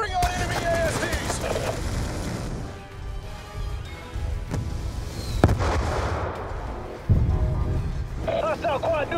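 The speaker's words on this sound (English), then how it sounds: "Firing on enemy ASDs." Battle fire from a Call of Duty: Black Ops II strike-force mission as troops shoot at enemy ASD robot units: a dense, continuous barrage of gunfire and blasts with sharp louder bangs near the middle and end, under radio-style voice chatter.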